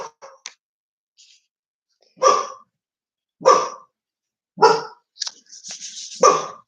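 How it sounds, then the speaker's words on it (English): Dogs indoors let out a series of evenly spaced single barks, about one every second, with a few softer yips scattered between them. "Of course, the dogs are going to decide to bark."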